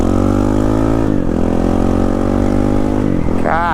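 A Honda CRF450RL motorcycle with a full exhaust and ECU tune runs hard while being ridden, its loud, raspy engine note holding steady and then dipping and climbing as the throttle changes, close up and continuous.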